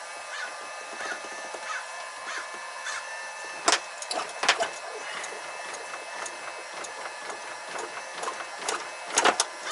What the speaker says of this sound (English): Now that noise that you're hearing is just the fender liner moving around.